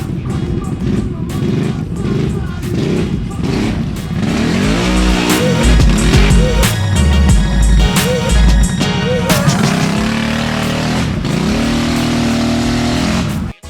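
Off-road vehicle fitted with an exhaust silencer, driving through a mud hole: engine revs loudly and climbs in pitch, wheels spin and squeal, with the note rising and falling across the run.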